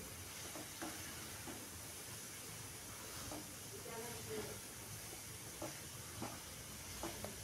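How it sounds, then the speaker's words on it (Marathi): Cabbage bhaji being stirred in a hot pan, a soft continuous hiss with scattered scraping strokes of the spoon at a fairly quiet level. "मग आपण तो आता मिक्स करायचा, मिक्स करून घ्यायचा कोबी"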